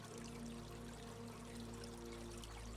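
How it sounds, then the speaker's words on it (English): Steady flowing water in a jungle setting, a continuous soft pouring wash with a faint low hum running underneath, quiet and unbroken throughout. "The sound of birds and water."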